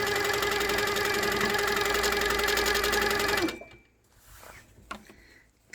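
A sit-down midarm quilting machine stitches in a loud, rapid, even hum close up, then stops abruptly, leaving faint handling sounds behind.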